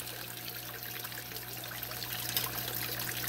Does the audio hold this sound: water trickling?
yes